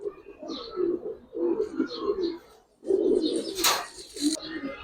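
Male colored racing and high-flying pigeons coo in a loft, several close, throaty rolling coo phrases in bursts separated by brief pauses, with a sharp higher noise near the end.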